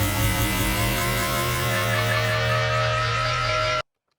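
A sample stretched to the extreme in Ableton's texture warp mode, giving a dense, sustained smeared drone with steady tonal layers over a hiss, holding evenly loud for nearly four seconds before cutting off abruptly.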